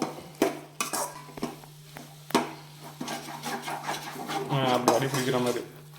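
Rava stirred in a pot over a low flame gives dry scraping and clinking spoon strokes against the metal. A steady hum runs beneath, and voices come in toward the end.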